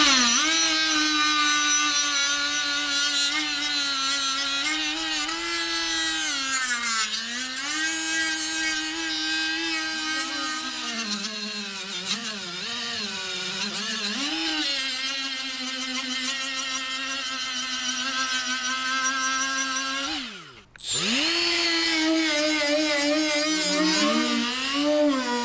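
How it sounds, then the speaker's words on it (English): Power tool with coarse-grit 3M sanding pads working on a 1969 GMC Astro cabover truck: a steady high whine with shifting pitch and gritty rubbing, loud and continuous, briefly stopping near the end before starting again. "I'm using these 3M sanding pads. These are coarse grit."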